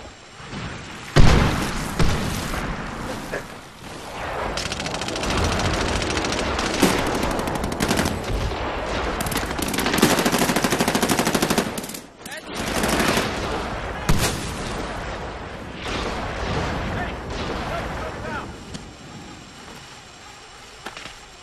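Sustained automatic gunfire and rapid bursts from a modern military shooter, Medal of Honor Warfighter, with an Mk18 rifle, loud and dense throughout with brief pauses and booming impacts.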